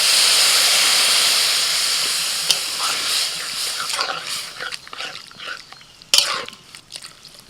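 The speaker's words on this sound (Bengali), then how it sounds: "একটু নাড়াচাড়া করে নিয়ে এবার আমি জল দিয়ে দিচ্ছি।" Water poured into a hot pan of oats, vegetables and spices sets off a loud, steady steam hiss that slowly fades into softer bubbling, with scattered clinks and scraping in the pan.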